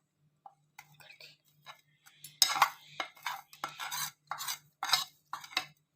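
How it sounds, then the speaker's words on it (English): Softened butter mixture for garlic bread stirred with a utensil in a bowl, giving irregular soft scraping and clicking strokes, close and fairly quiet. "Guys, we will mix them."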